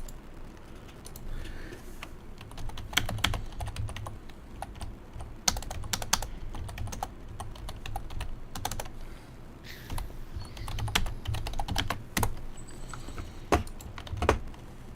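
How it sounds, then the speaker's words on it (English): Steady typing on a computer keyboard, close and fairly soft, with irregular clusters of key clicks and brief pauses over a faint background hum. "I'm gonna go type in Discord real quick that I got that"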